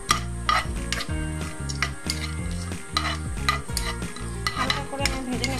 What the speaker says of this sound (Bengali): ঘি এর মধ্যে আমি এখন বাদামগুলোকে প্রথমে ভেজে নিচ্ছি